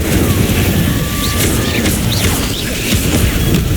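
Incendio fire spell from Hogwarts Legacy, cast amid a string of other spells: a dense, continuous booming rush with crashing, swooshing accents and faint chirps layered over busy game noise.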